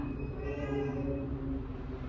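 A domestic cat lets out a long, drawn-out, strained meow during a squabble, one continuous wavering cry held for about two seconds close to the listener, with no talking over it.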